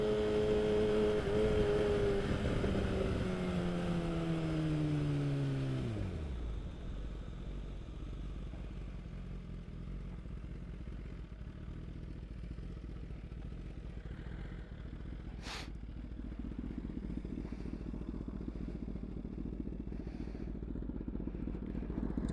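Motorcycle with a loud exhaust on Michelin Power 6 road tires, heard revving close by as it pulls away, then fading to a low distant rumble while it rolls slowly through a neighborhood, with a faint rise near the end.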